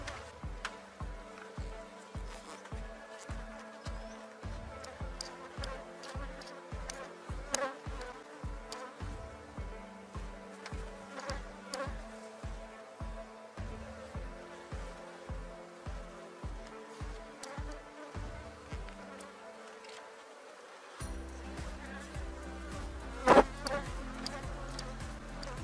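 Honeybees hum and buzz faintly and steadily while a swarm is split and the queen bee is handled, with a soft, regular pulsing running underneath and no talk.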